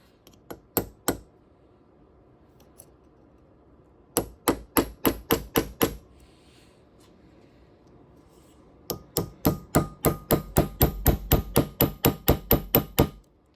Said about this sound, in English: I'm going to try to see if this thing's loose enough to where a punch will get it to move